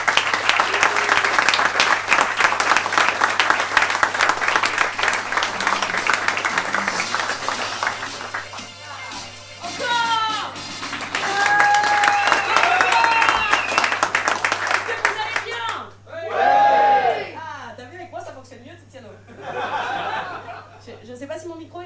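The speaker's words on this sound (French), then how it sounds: "je vous prie de lui réserver un tonnerre d'applaudissements" Audience applause at a comedy club show, dense clapping for several seconds that thins out, followed by chuckles and speech from the performer and crowd.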